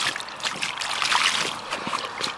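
Lake water splashes and trickles as a freshly caught carp is rinsed, close gurgling and dribbling sounds that continue steadily for a couple of seconds.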